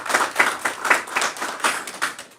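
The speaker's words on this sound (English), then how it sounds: "So I'd like a round of applause for her as well." An audience at a Cherokee Nation tribal council budget hearing claps for a few seconds, the hand claps coming in quick, steady bursts that rise and fall in a loose rhythm, fairly close and with no talking.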